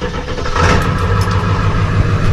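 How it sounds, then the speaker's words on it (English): A truck engine, sitting beside a Kubota L3240 small tractor, fires up and settles into a loud, close, steady idle rumble with no talk over it. "So I'm gonna start the truck up here."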